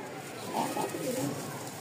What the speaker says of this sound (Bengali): খুব সুন্দর একটা কালো কবুতর রাজশাহীর, এই দেখেন ডাকটা মাশাআল্লাহ খুবই।